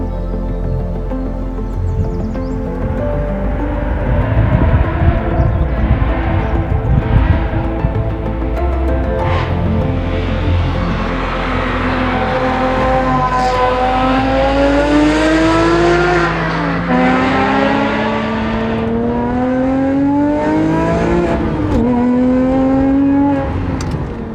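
A Porsche 996 Carrera, a manual car built up to a 460 hp 4.3-litre engine, rumbles and then revs repeatedly while driving, its loud, close engine note rising and falling through gear changes with no talk.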